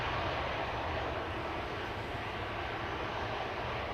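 A business jet arriving at Amsterdam Schiphol Airport, heard as a steady, broad engine roar that stays fairly loud and even throughout, with no talk over it.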